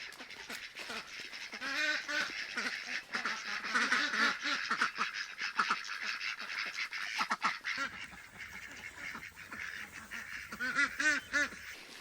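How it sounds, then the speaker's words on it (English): A flock of ducks quacks and honks nearby, overlapping calls in busy bursts, louder again toward the end. "Let's go, ducks!"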